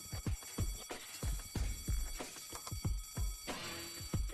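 A telephone ringing in the video game Deponia, a repeated electronic ring pattern in steady bursts, clear and isolated with no talking.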